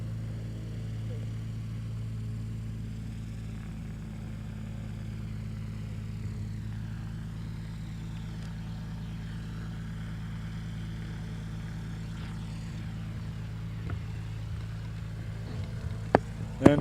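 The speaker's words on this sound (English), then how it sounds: "And the plane has come back" A propeller-driven skydiving plane for tandem jumps rumbles steadily at Cranland Airport as it comes back in, a low continuous engine drone with talk over it and a couple of sharp knocks near the end.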